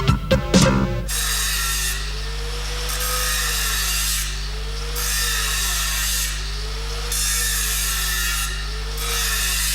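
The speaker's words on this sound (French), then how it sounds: "On meule soigneusement la reprise." An angle grinder grinds down a weld restart on steel during stick electrode welding, a loud continuous whine with rhythmic surges as the disc is worked back and forth, preceded by a brief clatter at the start.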